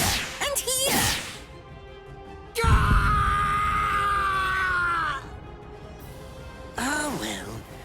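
A male character cries out in pain in the video game Bleach: Rebirth of Souls, a strained, harmonic yell that holds for about two and a half seconds mid-clip, flanked by shorter voiced groans and effort sounds at the start and end.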